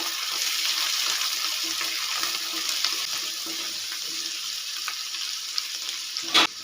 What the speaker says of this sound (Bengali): আর দিয়ে দিলাম বাঁধাকপি সব কিছুকে ভালো করে মিশিয়ে নেব